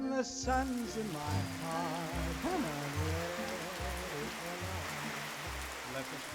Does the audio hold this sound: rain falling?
yes